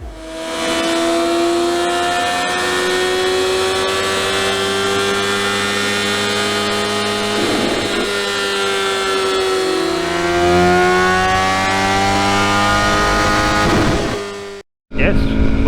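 A tuned 2022 BMW S1000R motorcycle engine runs hard on a dyno, its loud, steady high-pitched wail climbing and holding through sustained revs, dipping briefly near the end before snapping back, close and alone with no talk.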